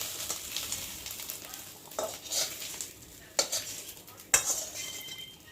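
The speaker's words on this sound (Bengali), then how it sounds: "খুলে একটু নেড়ে দেবো মশলাটা যাতে খিচুড়ির মধ্যে ভালোভাবে ঘেটে যায়" A spoon stirs spices into khichuri in a pan, giving a soft sizzle under a few sharp metallic scrapes and clinks against the pan's side, spaced irregularly, close and fairly quiet.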